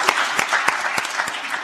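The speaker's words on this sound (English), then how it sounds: "So a round of applause anyway." A closing-ceremony audience gives a short burst of steady applause, individual claps close and sharp within the crowd's clapping, loud throughout the brief moment.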